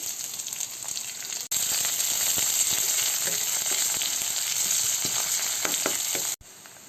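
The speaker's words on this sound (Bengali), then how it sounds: "রসুনটা ভাজা হয়ে গেলে এর মধ্যে আমি পেঁয়াজ কুচি দিয়ে দিচ্ছি" Chopped garlic and onion frying in a pan while making eggplant bharta, a loud, dense, continuous sizzle with occasional stirring taps, close up, after a quieter opening second.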